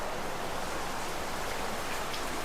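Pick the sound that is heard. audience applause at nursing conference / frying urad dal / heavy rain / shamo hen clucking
heavy rain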